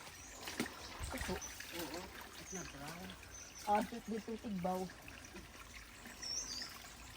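A small stream of water trickles toward a pond, a faint steady dribble under brief outdoor speech, with a few louder splashy bursts and occasional birds.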